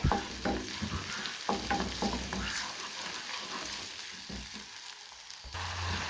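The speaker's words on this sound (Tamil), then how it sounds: "இஞ்சி பூண்டு பேஸ்ட்டில் பச்சை வாசனை பொருளும் நல்லா வதக்கி விட்டுப்போம்" Ginger garlic paste being sautéed in a pan, close spatula scrapes and knocks in an uneven rhythm over a soft sizzle that quietens midway and then picks up again, no speech.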